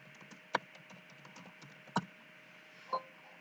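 A few isolated keystrokes on a computer keyboard, three distinct close clicks spaced about a second apart over a faint steady background hum, with no talking.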